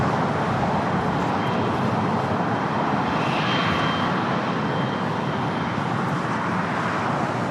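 A Condor heavy jet on final approach at LAX produces a loud, steady broadband roar that holds throughout with a slight swell in the middle, no voices.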